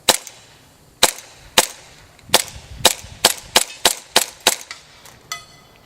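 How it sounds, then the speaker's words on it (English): An airsoft pistol fed through an M4 to M9 magazine adapter fires a string of sharp snapping shots, about twelve close loud pops, spaced slowly at first and then faster, with no talk. "When I'm shooting now,"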